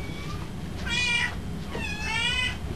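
A cat meows twice in a shelter kennel, two clear, fairly close calls over a steady background hum.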